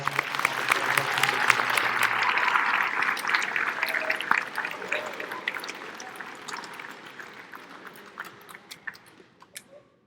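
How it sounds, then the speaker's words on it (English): Audience at a high school athletic awards program applauds the football coaching staff, a dense sustained round of clapping that stays fairly loud for several seconds before thinning out toward the end. "Please give our football coaching staff a round of applause."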